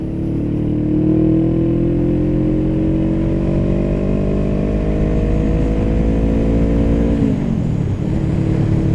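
A Honda Rebel 500 motorcycle carrying a passenger pulls hard in third gear, its loud engine note climbing steadily for several seconds before dropping sharply as the throttle closes, with heavy wind roar throughout.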